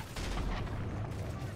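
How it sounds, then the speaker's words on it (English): Gunfire in the Modern Warfare 3 campaign, a steady rattle of shots and blasts heard faintly and at a distance, with no talking. "I shot that guy and he started falling and shot an RPG into the ceiling"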